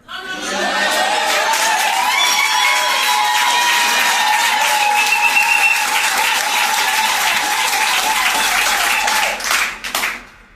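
Wedding guests at a civil marriage ceremony applaud in a loud, sustained burst lasting about ten seconds, dense clapping from a full room with a few faint voices mixed in before it tapers off.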